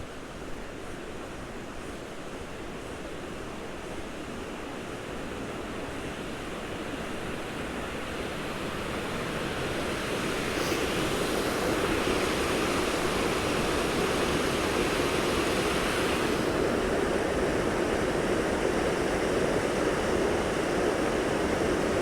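Steady rushing creek water, running high, roars without pause near Lake Padden, Bellingham, growing louder and closer partway through as a bridge is approached, a dense broadband flow with no voices.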